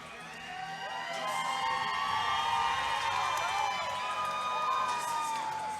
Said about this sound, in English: Gets good cheers from the home crowd.